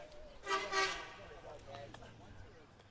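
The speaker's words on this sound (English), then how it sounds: "Gotta love the mainland honk." A car horn on a busy road near a high school baseball game sounds two loud honks in quick succession, then fades into a murmur of crowd and background noise.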